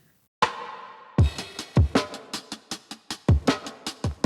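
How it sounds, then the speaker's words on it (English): A punchy drum loop from a produced track plays in a tight, repeating groove of heavy kick hits and sharp snare and hat strikes, loud and alone after a brief quiet start. "what you hear is pretty much the drum loop straight."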